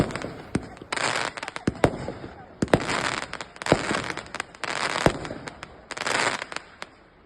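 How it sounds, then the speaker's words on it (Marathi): Fireworks at a temple during a Diwali celebration in Canada burst in repeated crackling volleys, with sharp bangs scattered between the dense crackle bursts, moderately loud at middle distance. "मंदिराच्या परिसरात फायरवर्क शो होता त्या ठिकाणी आम्ही फटाके बघायला गेलो"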